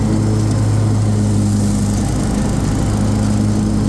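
A 61-inch SCAG Turf Tiger commercial-grade zero-turn riding lawn mower runs at full throttle, its engine and blades droning loud and close in a steady, unbroken roar.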